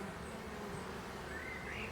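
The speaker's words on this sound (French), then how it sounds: "Les abeilles travaillent très bien" Honeybees working at a hive on a fine sunny day in Italy, a soft continuous buzz of many insects close by, faint and steady with no talk.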